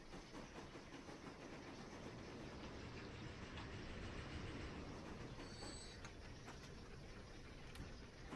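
A train runs in the rail-building game Transport Fever 2, a steady low rumble and clatter that holds evenly throughout with a few faint high clicks near the end, with no voices.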